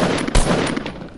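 Gunfire from the video game Fortnite: a dense burst of game shots with a sharp, loud blast in the middle, crackling over continuous game noise.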